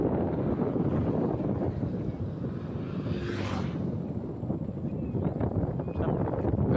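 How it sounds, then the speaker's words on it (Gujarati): Cool evening wind blows across an open hillside roadside above a ravine, a steady rushing buffet against the microphone with a faint passing whoosh partway through. "સાંજનો મસ્ત ઠંડો પવન વાગે છે."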